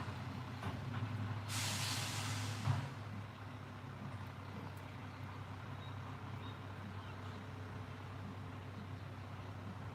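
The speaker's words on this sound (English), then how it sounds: "now we can hear the garbage truck" A garbage truck releases a loud hiss of air brakes lasting about two seconds, then its engine rumbles steadily at moderate distance on a residential street.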